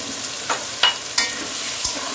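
Spices frying and being stirred in a pan while cooking, a steady soft sizzle with a few brief scraping strokes of the spoon, close and without talk.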